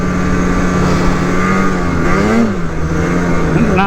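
A snowmobile engine revs hard while riding, a loud close droning whine that wavers in pitch as the throttle shifts.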